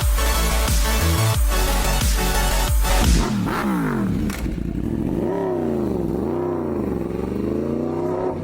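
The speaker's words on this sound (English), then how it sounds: "It is finally time to ride the H2R." A Kawasaki H2R motorcycle's engine idles with loud, close pulsing blips, then revs up and down through rising and falling sweeps as it rides off, loud and continuous throughout.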